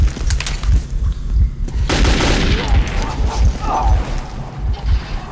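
Gunfire from the video game Metro 2033 comes in a rapid, repeated volley of sharp shots, loud and close, with a burst of noisy wash partway through and no talk.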